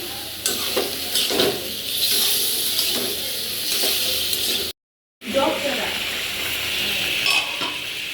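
Spiny gourd (kakrol) tipped into a pan of fried chili and spice paste, giving a steady broadband sizzle with stirring scrapes, broken by a brief silent gap midway before the frying resumes loud and close.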